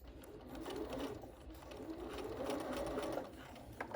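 A Bernina sewing machine runs continuously, stitching fabric along the edge of a face mask, its quiet, fast needle whir close and steady, with small variations in speed.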